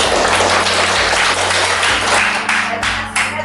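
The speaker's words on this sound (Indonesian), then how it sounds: "Tepuk tangan bersama." A classroom of students applauds together at a lesson on trigonometry, a dense, loud, steady wash of many hands clapping at once over a low hum, thinning slightly near the end.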